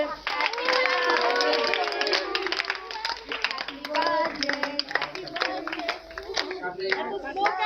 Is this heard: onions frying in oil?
no